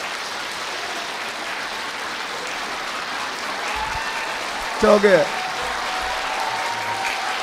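An audience claps continuously throughout, a dense, steady patter of many hands filling the room, with a brief spoken word cutting in midway over the applause.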